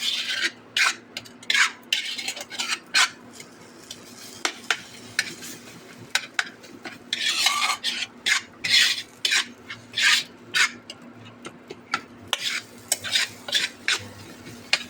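Spoon scraping and stirring masala as it fries in oil in a pan, a close series of rhythmic scrapes over a faint steady sizzle.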